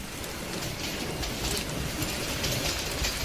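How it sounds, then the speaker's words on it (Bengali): Heavy rain pouring around a train in the evening, a dense, steady wash of hiss with low rumble underneath, continuous and fairly loud with no voices. "চারপাশে ঝুম বৃষ্টি।"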